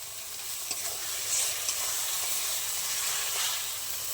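Tomato paste (two tomatoes, ground) hits spice paste frying in a pan for egg biryani, giving a steady, close sizzle and hiss with faint stirring scrapes and brief spits, no talk.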